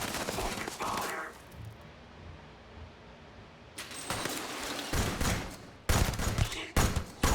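Gunfire in the video game Starfield comes as a fusillade of sharp shots that strike repeatedly over a steady background rumble, growing into louder clustered bursts toward the end.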